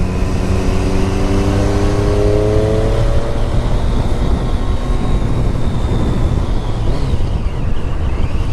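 A 2015 Triumph Daytona 675 sport motorcycle on a test ride, its engine loud and close, rising in pitch as it accelerates, then droning steadily under heavy wind rush.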